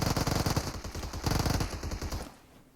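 Rapid automatic gunfire crackles in a PUBG Mobile firefight, with dense, close bursts that fire steadily, then die away near the end.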